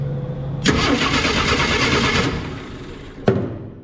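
A 1965 Ford F100 farm truck's engine cranks and catches, then runs at a steady, rumbling idle nearby, ending in a sharp knock or clunk.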